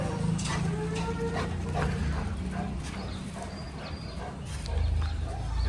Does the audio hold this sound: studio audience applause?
no